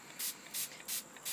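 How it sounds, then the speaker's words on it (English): Four quick, evenly spaced bursts of hissing spray from spray bottles putting down puddles of coloured ink, close and crisp against a quiet background. "you're going to spray 2 puddles of each of the 3 colors"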